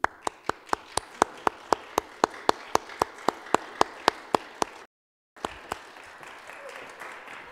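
Claps ring out at a benefit concert, evenly spaced and steady, about four per second, for members of a Gilbert and Sullivan group; the sound cuts out briefly, then faint room noise and a couple of softer claps follow.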